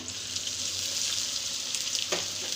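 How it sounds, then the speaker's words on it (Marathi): Onion sautéing with crushed garlic cloves, cumin and popped mustard seeds in a pan over low gas, giving a steady, dense sizzle close by with a brief scrape of stirring near the end, no talk. "बारीक गॅसवर कांदा छान परतून घ्यायचा आहे"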